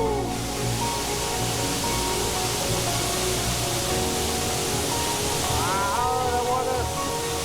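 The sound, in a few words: huge waterfall in the Dolomites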